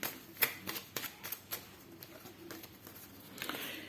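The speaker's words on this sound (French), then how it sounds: "Et on va quand même tirer quelques cartes." Oracle cards are shuffled by hand close by, with a quick run of soft, papery flicks and taps followed by a brief riffle near the end. The shuffling is quiet and no one speaks.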